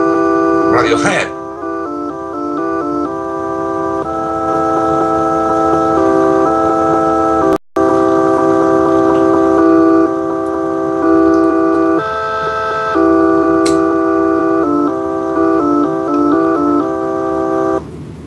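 A music program running on a Dragon 64 home computer plays a steady electronic melody of bright beeping tones in a looping pattern, loud and close, with one brief dropout midway and faint talk underneath.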